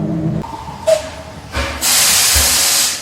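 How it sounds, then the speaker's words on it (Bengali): A DMU train coach pulls in with rumbling and hissing, then a loud, sustained broadband hiss and screech of brakes as it squeals to a stop nearby. "ছিক ছিক শব্দ করে এসে ক্যাঁচ কিচ আওয়াজ করে দাঁড়িয়ে গেল শেষ ট্রেন ডিএমইউ কোচ"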